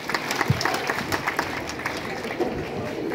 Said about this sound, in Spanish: La vamos a recibir con fuertes aplausos.